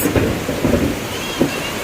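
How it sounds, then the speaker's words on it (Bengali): Thunder rumbles low and heavy through a strong afternoon storm while rain pours steadily in the background. The sound is loud and continuous with no voices. "বিশাল জোরে আকায় ডাকতেস"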